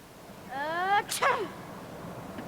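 A single sharp sneeze, preceded by a rising breathy intake, close and fairly loud against a quiet background.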